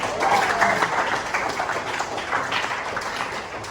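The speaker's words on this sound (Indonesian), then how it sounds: "Boleh kasih tepuk tangan" Classroom audience in a teacher-training session claps together after a group presentation, a steady wash of applause running evenly throughout without pauses.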